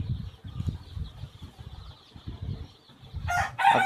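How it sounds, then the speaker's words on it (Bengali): Seven-day-old cockerel chicks on a poultry farm cheep and cluck in a steady close chatter, with a brief louder burst of shrill calls or flapping near the end. "এগুলো হচ্ছে কক মুরগির বাচ্চা"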